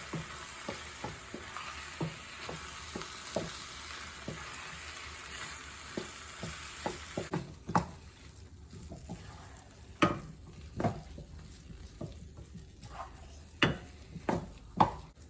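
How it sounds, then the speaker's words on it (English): Risoles filling of flour and milk sizzles in a frying pan while a spoon stirs it, giving a steady fry with repeated close scraping strokes that grow sharper and more spaced toward the end; no one talks. "we are going to stir it right away"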